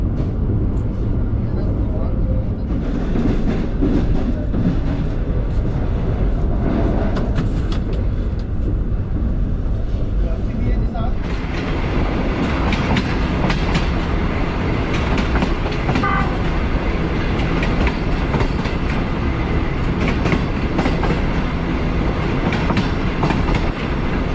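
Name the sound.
passenger train running on rails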